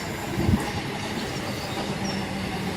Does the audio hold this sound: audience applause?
no